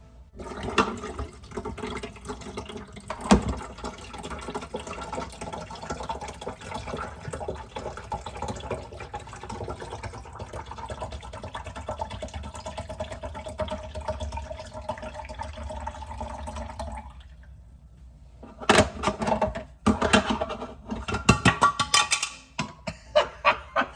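Water pours steadily into the reservoir of a Keurig K-Express Essentials single-serve coffee maker during descaling, a continuous splashing fill for about seventeen seconds, then a pause followed by scattered clunks and handling noises.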